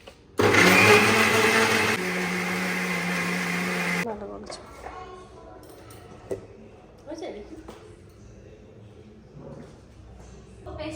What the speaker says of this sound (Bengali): এবার আমরা মিক্সিটা চালিয়ে